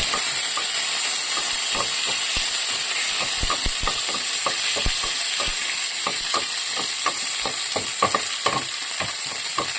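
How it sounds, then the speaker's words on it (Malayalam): Garlic and curry leaves sizzle steadily in hot oil for a lentil curry, with a constant frying hiss and frequent scraping stirs of a spoon in the pan, close and loud. "വെളുത്തുള്ളി നമുക്കൊന്ന് വഴറ്റി കൊടുക്കാം. കരിയാപ്പില ഇട്ട് കൊടുക്കാം."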